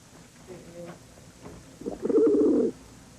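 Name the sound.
rock doves (pigeons) cooing in a wildlife centre room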